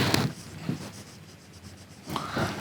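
Chalk or marker strokes on a board during a university mathematics lecture, two short scratchy bursts at the start and end with a quiet pause between, close and moderately loud, with no talking.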